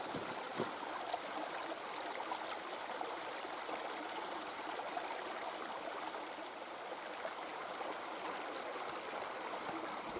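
A mountain creek flows steadily with a constant broadband rush and trickle, close and continuous, with no voices.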